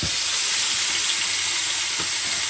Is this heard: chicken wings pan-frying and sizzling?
yes